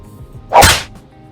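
One sharp slap lands against skin during a heated argument: a single sudden broadband crack, loud and close, standing alone over low background noise with no talk over it.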